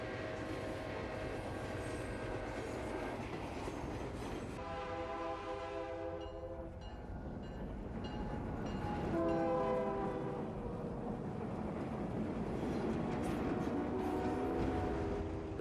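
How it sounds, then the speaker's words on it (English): An Australian 38 class steam locomotive hauling a local passenger train passes by with a continuous loud rumble, and several drawn-out whistle or horn blasts rise over the rolling noise. "A 38 class steam locomotive with a local passenger train passes us on our approach to Museum Junction."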